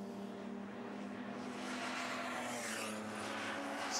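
A big-horsepower BMW 2002 Turbo race car in an open-class race at Pukekohe, its engine droning steadily with a sustained tonal hum that swells slightly louder toward the end, with no talking.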